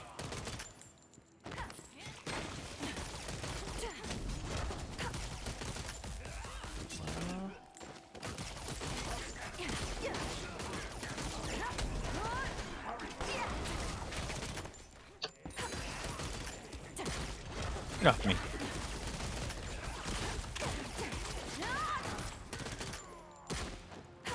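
Rapid gunfire from the online game Lost Ark, dense bursts of shots with short pauses between volleys, loud and close, mixed with game effects.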